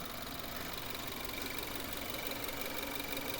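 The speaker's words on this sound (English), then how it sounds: "Engine's running really smoothly." A 2014 Subaru Levorg 2.0GT engine idles steadily, a smooth continuous mechanical hum at moderate level with no talking over it.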